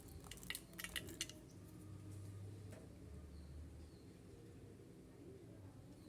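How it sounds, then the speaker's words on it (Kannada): A knife chops almonds in a kitchen, with a quick burst of sharp clicking cuts near the start followed by quieter scraping and faint handling sounds at low level. "ಇವಾಗ ಬಾದಾಮಿ ಕಟ್ ಮಾಡ್ಕೊಳ್ಳಿ"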